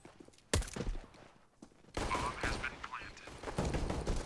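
Gunfire in a professional CS:GO match breaks out in quick bursts of shots amid game noise, with commentators talking over it.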